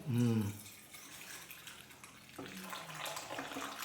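A child washes a plate with soap under running water, a steady splashing wash that swells again midway, with a voice speaking briefly at the start.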